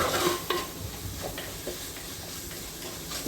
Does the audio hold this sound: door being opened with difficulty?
no